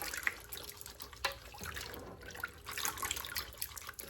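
Hominy corn being rinsed by hand in a sink of water, handfuls rubbed together, giving soft continuous splashing and trickling with a few brief drips and sloshes, close and fairly quiet, with no talk.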